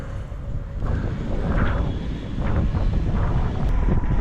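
Riding a River Indie electric scooter in eco drive mode gives a steady, close rush of wind buffeting the microphone, with a faint low rumble beneath and no voices.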